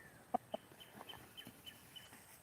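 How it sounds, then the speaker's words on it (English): Chicken clucking outdoors: two sharper clucks up front, then a run of softer, evenly spaced clucks at moderate distance. "The chicken's awesome."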